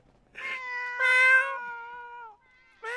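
A player's voice imitates a cat in GTA 5 roleplay: a few drawn-out, clearly pitched meows in a row, close and fairly loud, with a short rising mew starting at the end.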